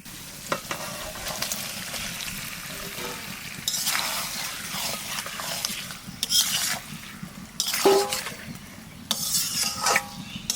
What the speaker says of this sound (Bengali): মাছ দিয়ে আরো একটু কষাবো